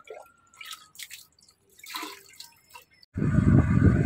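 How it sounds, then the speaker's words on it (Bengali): Feet dipping into a bowl of hot water: a few scattered drips and small trickles, then a sudden loud, continuous sloshing splash close by at the end. "গরম জলের ভিতরে পা চুবায় রাখো"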